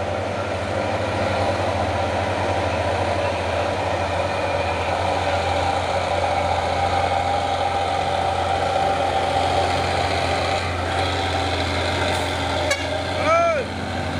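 A Hino dump truck's diesel engine idles steadily with a low, constant rumble throughout, joined by faint background traffic and brief higher-pitched squeaks near the end.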